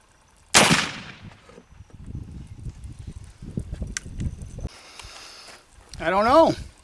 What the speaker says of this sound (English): All right, let's get the next shot downrange.